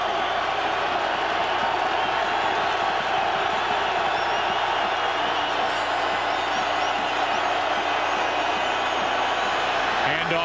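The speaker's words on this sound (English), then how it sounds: "So after a scoreless third quarter, this crowd lets the Eagles hear it," A packed stadium crowd at the Eagles-Vikings NFC Wildcard playoff game roars steadily as it jeers the visiting team, a sustained loud wash of noise running under a commentator's voice.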